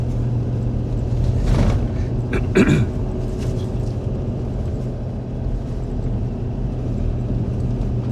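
A wood delivery truck hauling a full cord of boiler wood drives uphill in third gear, its engine a steady close rumble throughout, with a brief louder shift or clunk near the start.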